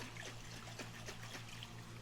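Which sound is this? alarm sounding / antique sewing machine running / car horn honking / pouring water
pouring water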